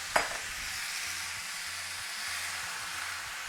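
Mussels go into a hot pan with chili, landing with one sharp clatter and then a steady, loud sizzle and hiss that carries on by itself.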